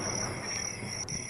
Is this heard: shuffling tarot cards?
no